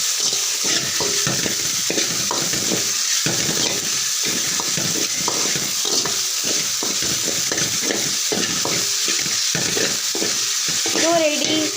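Pasta is stirred together with egg in a hot frying pan. A spoon scrapes repeatedly in an uneven rhythm over a constant loud sizzle, close up and without talk.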